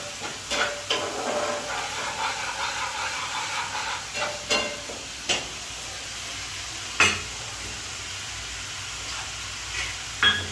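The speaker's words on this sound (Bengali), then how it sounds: "এবার এটাকে নাড়তে থাকুন যতক্ষণ না লাল রং হচ্ছে" Frying and stirring in a pan for a Bengali doi rui dish with rohu fish, a steady sizzle running throughout, broken by sharp scrapes and clinks of a spatula at irregular moments.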